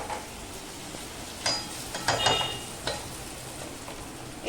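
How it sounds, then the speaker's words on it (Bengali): Raw banana and vegetables fry with turmeric in a pan, a steady low sizzle broken by several scraping stirs and light clinks of a spatula against the metal, close by. "ভাজছি আবার।"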